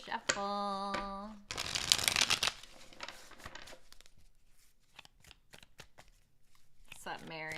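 A deck of tarot cards is shuffled in a burst of rapid riffling and crisp card snaps, followed by softer scattered taps, with a voice speaking briefly at the start and end.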